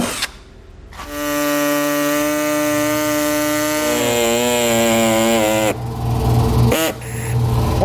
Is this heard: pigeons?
no